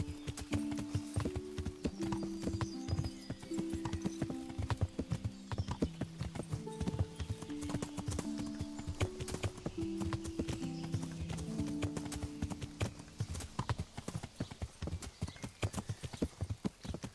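Horse hooves clip-clop steadily in the video game Kingdom Come: Deliverance, a continuous rapid rhythm of hoofbeats under soft background music, with no talk over it.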